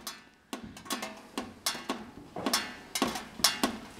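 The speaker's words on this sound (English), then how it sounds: "18 minutes and still dripping" Water drips from a leaking stove top in a steady series of sharp, close taps, roughly two to three per second and some louder than others, with no voices.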